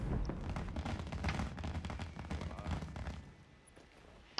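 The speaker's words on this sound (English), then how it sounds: "Did I hear fireworks go on?" Fireworks in Monster Hunter Wilds, a video game, crackle and rumble in a dense, continuous volley of booms and pops, fairly faint and distant, thinning toward the end.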